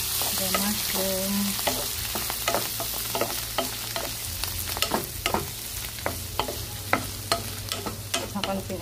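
Mushrooms frying in a pan for bacon mushroom carbonara, a soft steady sizzle broken by repeated scraping and clinking as a utensil stirs them, close and fairly quiet.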